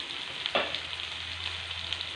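Shallots sautéing in a pan of hot oil, a steady quiet sizzle that runs throughout, with a brief stir or scrape near the start.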